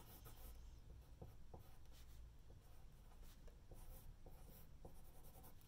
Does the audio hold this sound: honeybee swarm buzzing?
no